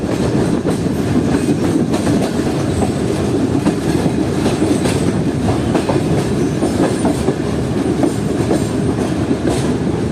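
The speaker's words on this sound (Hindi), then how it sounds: "ठीक 8:50 हमारी ट्रेन जो है वो अप्रोच कर रही है ring road junction railway station पर।" A train with an HM38-202 locomotive in the lead approaches Ring Road Junction railway station, heard from on board as a loud, continuous rumble with steady clickety-clack of wheels over the rails.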